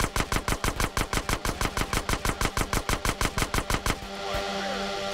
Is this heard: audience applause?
no